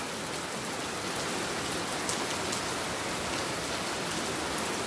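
Heavy monsoon rain pours steadily in Karjat, a dense, unbroken hiss of water on surfaces close by, with no voices over it.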